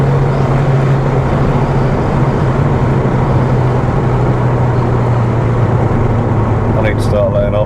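A 1994-era Audi TT MK1 pulls hard under turbo boost in fifth gear, a loud steady engine drone with road and wind roar filling the cabin, its pitch holding high throughout.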